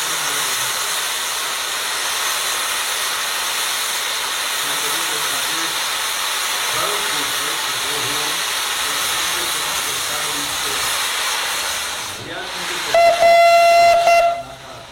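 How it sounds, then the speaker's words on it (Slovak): A steam locomotive on a heritage train run blows off steam with a loud, steady hiss across the whole stretch, then a brief pause and a sharp burst with a whistle-like tone near the end. "Tá para, čo vyfúkuje."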